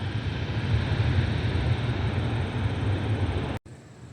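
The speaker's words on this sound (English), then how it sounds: "Behind that plane is a UPS 767." A UPS Boeing 767 heavy cargo jet inbound to Cleveland, heard as a loud, steady broadband engine roar that continues without letup before cutting out abruptly near the end.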